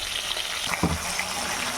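Fish heads fry in a pan with a continuous crackling sizzle, close and steady, with a couple of brief stirring or shifting sounds partway through.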